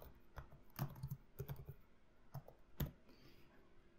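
Typing on a computer keyboard while editing a subscribe form, with a few faint, sparse key clicks spread irregularly over a quiet room tone and no voices.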